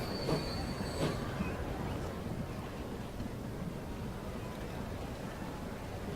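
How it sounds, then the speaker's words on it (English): A late-1880s steam-era train rolls along in the Transport Fever game near New York, a steady rumbling run of wheels on rails with a brief high squeal at the start, fairly quiet and continuous. "First thing we're doing is taking this train north to Philadelphia."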